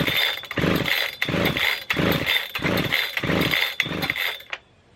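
A Husqvarna 3120xp chainsaw engine sputters and revs in a series of short, rhythmic bursts but fails to catch, loud and close, then cuts out abruptly.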